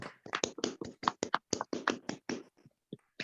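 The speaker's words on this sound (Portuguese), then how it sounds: "Vamos ligar o microfone para dar uma salva de palmas." A small group in an online class giving a round of applause, a loose run of sharp close hand claps and taps with uneven gaps that thins out toward the end.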